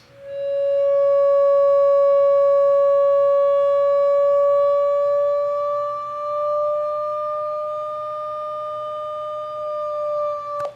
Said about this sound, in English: I'm going to bypass it quickly just to show you what the EBow sounds like.